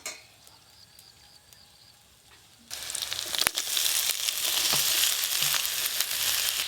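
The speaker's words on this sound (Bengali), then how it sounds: "সব কিছু একটু ভালো করে ভাজা ভাজা করে নিয়েছি। সেদ্ধ করে রাখা আলুগুলো দিয়ে দেব।" Boiled potatoes tipped into a pan of frying ginger paste and turmeric, the quiet background giving way to a louder, steady sizzle with light stirring scrapes.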